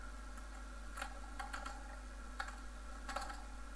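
Typing on a computer keyboard while coding in ActionScript 3.0: a few scattered key clicks in small clusters, quiet and close over faint steady room hum, with no talking.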